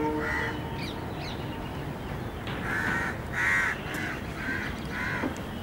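Crows caw repeatedly on the grounds of Sabarmati Ashram, a series of harsh calls in quick succession with short gaps, fairly close, over a steady outdoor background hum.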